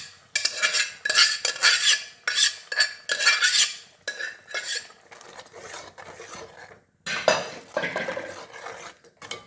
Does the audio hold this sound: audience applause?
no